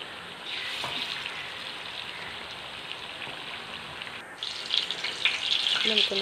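Large stuffed spicy chili bajji frying in hot oil, giving a steady, close, crackling sizzle that grows louder and more bubbly over the last two seconds.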